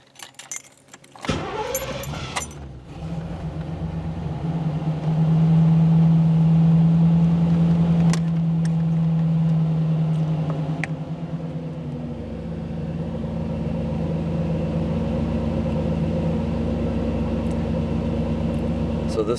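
A car engine starts with a brief crank and settles into a steady idle, running in open loop during an OBD-I scan tool check; the low hum stays close and constant for nearly twenty seconds, with a short rattle partway through.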